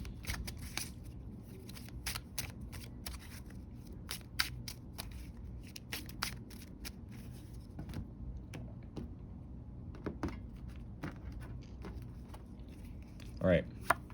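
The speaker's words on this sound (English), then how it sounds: "Give the cards a little shuffle." Tarot cards are shuffled in quick, faint bursts of crisp flicks and riffles, steady throughout with a louder flurry near the end, close and quiet, with a voice softly talking at times.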